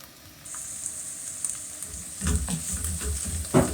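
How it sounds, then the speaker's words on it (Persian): Meat and bell pepper sizzle in a pan for macaroni, with steady frying hiss and louder scraping stirs toward the end, close and alone. "ما تفتش بدیم که رنگ گوشتمون عوض بشه."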